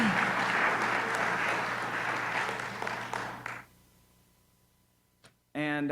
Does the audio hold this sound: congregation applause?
yes